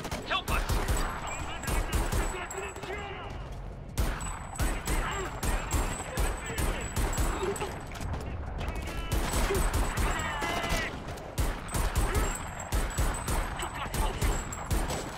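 Gunfire in Homefront: The Revolution, dense and continuous with rapid bursts, crashes and impacts throughout, close and loud, with a voice speaking at times over the fighting.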